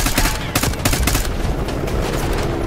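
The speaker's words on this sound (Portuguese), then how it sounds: "Ó, o Dude tá metendo bala" Gunfire in the video game Call of Duty: Black Ops 6, heard as loud, dense bursts of rapid automatic shots overlapping in a continuous fusillade.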